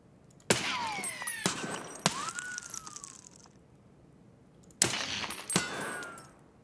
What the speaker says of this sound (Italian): Adesso, quando io sparo, voi sparate nel nulla.